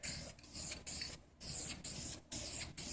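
Aerosol spray paint hisses onto an airsoft helmet being painted tan camo, in five or six sustained bursts separated by short pauses, loud and close.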